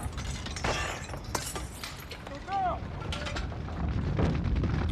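A burst of window glass shattering with bright crackling fragments, followed by thuds and scattered clatter against a noisy, busy background.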